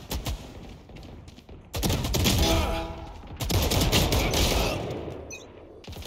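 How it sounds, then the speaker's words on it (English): Several rapid bursts of gunfire from a Valorant match, loud and close, with a brief pause before a second volley; almost no talk over the shooting. "Should have separated my shots a bit more there."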